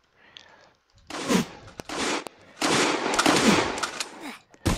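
Gunfire in the Roblox game The Streets: several loud bursts of rapid automatic shots in quick succession, close and harsh, separated by brief gaps, with no talking over them.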